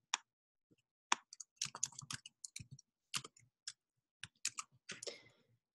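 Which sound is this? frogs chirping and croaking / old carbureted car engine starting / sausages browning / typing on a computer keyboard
typing on a computer keyboard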